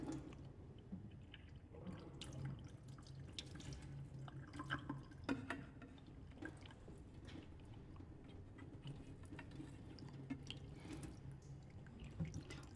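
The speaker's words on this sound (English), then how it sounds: "pour the excess water, just slowly like that. Without losing my particles." Excess water is slowly poured off a wet-sieved soil sample in a lab, making very faint, steady trickling with scattered small drips and splashes throughout, with no talking.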